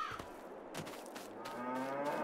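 Meat cows in Farming Simulator 22 let out a drawn-out low moo, soft and close with no talk over it.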